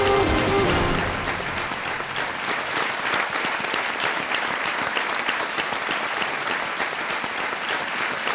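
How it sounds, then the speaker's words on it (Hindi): A KBC studio audience applauds, dense sustained clapping that fills the whole stretch at an even, loud level without voices. "तालियां बज जाए"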